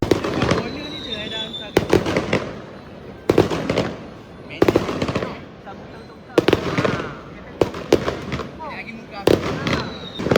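Fireworks burst in sharp, loud cracks and booms at regular intervals of about a second and a half, each trailing into crackle, with people talking in between.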